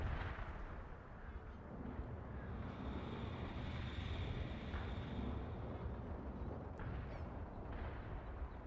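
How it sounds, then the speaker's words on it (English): MLRS rocket artillery fires in World in Conflict, a dense, continuous roar of launches and blasts that fills the whole stretch without pause. "We'll use the MLRS so that way we don't have to worry about running out of artillery assets."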